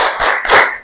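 A class claps together in a short 'tepuk fokus' chant, two loud close bursts of group clapping within under a second, with no talking.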